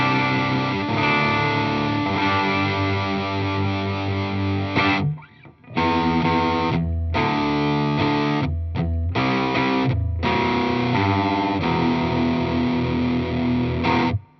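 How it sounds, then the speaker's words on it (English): Electric guitar played through a Gonculator combined distortion and ring modulator pedal, gritty metallic sustained chords with clangy inharmonic overtones, loud and alone, broken by several short pauses between phrases. "what this is a distortion and a ring modulator in one pedal"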